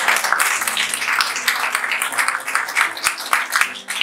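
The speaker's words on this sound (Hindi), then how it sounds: "जो लाइन रिलेट करो उस पर ताली बजा देना।" An audience claps at a Hindi poetry reading, a continuous, fairly loud patter of many hands that rises and falls in waves over a few seconds.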